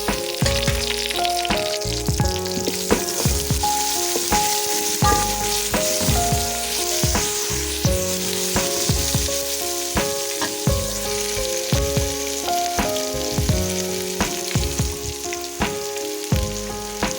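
Potatoes with salt and green chilies sizzle steadily in a pan for potato rice, a close, continuous frying hiss with occasional stirring scrapes and clinks, no talk.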